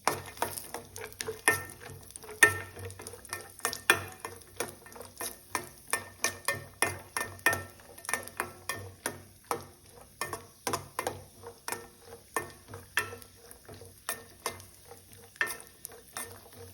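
Cashews fry in oil and ghee in a pan, with a soft, steady sizzle under frequent sharp scrapes and clicks of stirring that come in a quick, uneven rhythm, close and fairly quiet.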